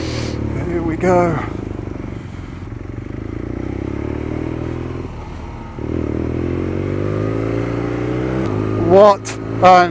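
Engine of a 2019 BMW R nineT Scrambler motorcycle on a test ride, a steady close rumble with a rising and falling pitch as it accelerates, along with some wind noise and a couple of short clattery bursts near the end.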